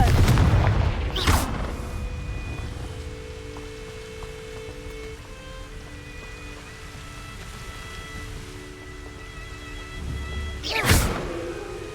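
Confringo fire spell blasts in the video game Hogwarts Legacy, inside the Collector's Cave, a loud booming burst at the start, then a low rumbling ambience with faint tones, and a second sharp explosion near the end.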